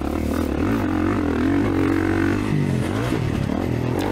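A 2024 Kawasaki KX450 four-stroke motocross bike revs and runs continuously on a practice track, with an engine drone that rises and falls, loud and close.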